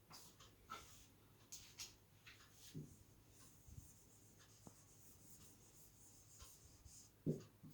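A teacher writes a chapter title in a classroom lesson, producing faint, scattered scratching strokes with soft taps and rustles, and no talk over it.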